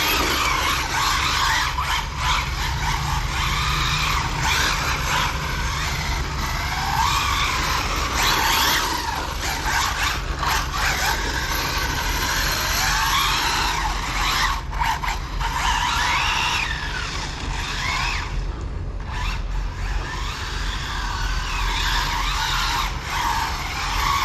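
Tires of an HPI Maverick QuantumR Flux RC car squeal and skid continuously while drifting, a harsh scrubbing hiss over a steady whirring motor that lasts the whole stretch.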